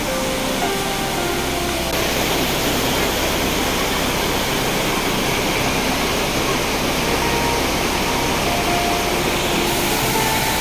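Falls number 3 in Bolinao pour down in a loud, unbroken roar of rushing water heard up close, a dense steady wash that fills the whole stretch with faint voices barely showing beneath.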